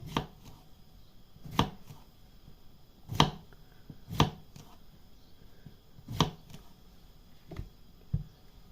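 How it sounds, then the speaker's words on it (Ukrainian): A knife cuts zucchini into wedges on a board, producing about eight sharp, separate thuds at uneven intervals against a quiet background, close and distinct, with no one speaking. "Нарізаємо приблизно отакими дольками"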